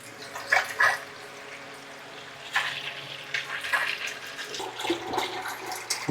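Water draining and splashing into a catch container while a Hydro Magic 3-stage water purifier filter is replaced, with intermittent gushing bursts and a steady running flow, fairly faint and close.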